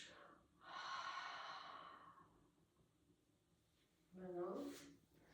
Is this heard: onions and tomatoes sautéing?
no